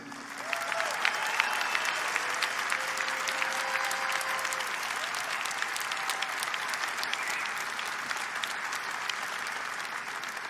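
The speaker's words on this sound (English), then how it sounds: "Let's give a great round of applause for this year's winner" A large audience at a bodybuilding contest applauds the year's winner with sustained, dense clapping that holds at an even, loud level for the whole stretch, with no voices on top.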